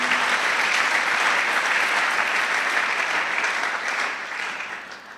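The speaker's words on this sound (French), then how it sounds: "On acclame la parole du Seigneur." Congregation applauding during a church service, a dense, steady burst of clapping hands that sustains at full strength and then begins tapering off near the end, with no talking over it.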